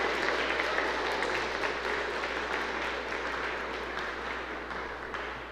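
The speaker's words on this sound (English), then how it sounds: "So give Caleb a big round of applause." A concert audience at a spring choir and band concert applauds a soloist, a dense, steady wash of many hands clapping that fades slightly toward the end.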